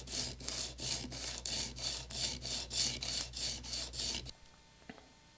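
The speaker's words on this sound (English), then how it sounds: "When I shape the edge of the saddle that will be in contact with the strings," Rhythmic rasping strokes of a file on the edge of a classical guitar's bone saddle, about a dozen even back-and-forth passes, close and loud, then stopping abruptly into near silence.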